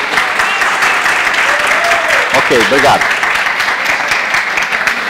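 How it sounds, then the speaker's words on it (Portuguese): An audience applauds steadily throughout a training course session, a dense wash of clapping under which a voice briefly speaks near the middle. "gostaria novamente de uma salva de palmas"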